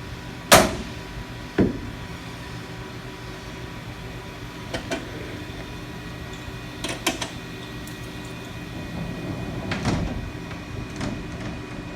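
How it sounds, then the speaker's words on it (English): A part is banged down into its fixture inside a Haas VF4 CNC mill, followed by the machine door sliding shut, heard as a couple of sharp knocks and later metallic clunks over a steady shop hum. "He's loading up another part, banging it down to make sure it's seated well. And in just a minute, he's going to shut the door"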